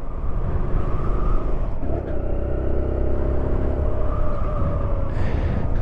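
A new motorcycle on its first ride rumbles steadily up close, with the engine note shifting as it accelerates and changes pace, and no voices over it.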